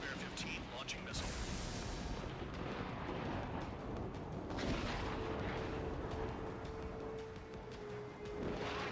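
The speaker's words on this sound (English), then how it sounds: "launching missile" Missile launch in the flight combat video game Ace Combat 7, a loud sustained rushing roar with booming blasts, heavy and continuous throughout, with radio chatter mixed in.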